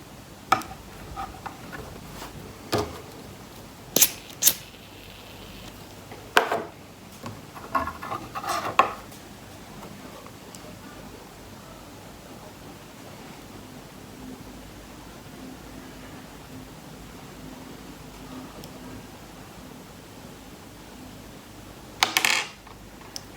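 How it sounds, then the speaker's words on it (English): Metal nails dropping one after another from a heated spoon as candle wax melts, a series of sharp clinks and small clatters spaced over several seconds, with one last drop much later against a quiet background. "the nails start dropping because of the phenomenon called conduction"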